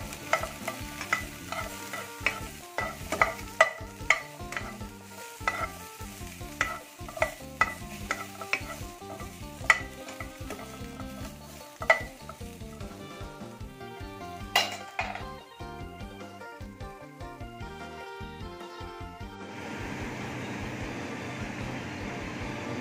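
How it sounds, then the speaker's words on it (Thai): Dried chilies, garlic and shallots are dry-roasted in a pan, stirred with rapid rhythmic scraping and clattering of a utensil against metal, the strokes thinning out into a steady hiss toward the end. "คั่วพริกกระเทียมหอมแดง"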